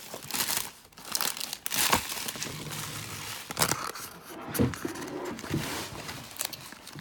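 Pokémon booster pack wrappers crinkle and tear open, a steady stretch of close, loud crackling foil with sharper rips and rustles and no talking.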